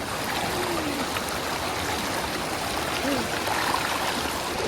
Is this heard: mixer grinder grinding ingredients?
no